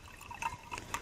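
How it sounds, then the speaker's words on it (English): Screw-cap wine pours into a glass in a brief, close liquid trickle with a few small splashy glugs, heard alone and faint. "I'm pouring a little glass of the screw-on cap wine here."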